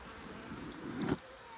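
Worn-out old honey bees buzz near a hive during nuc installation, a faint, brief drone that rises to a peak and then quickly drops away.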